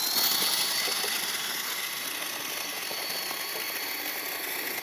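Small homemade jugaad toy tractor motor running with a steady high-pitched whine and hiss, continuous and fairly close.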